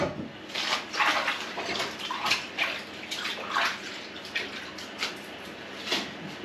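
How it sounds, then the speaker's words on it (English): Hands are washed under running water from a tap, giving a steady close splashing with uneven bursts as the hands move through the stream; no one speaks. "Quickly wash my hands."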